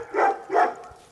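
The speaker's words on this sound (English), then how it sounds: "Another doggy." A dog barks twice in a warm late-winter night, two moderately loud, evenly spaced barks at middle distance with no talk over them.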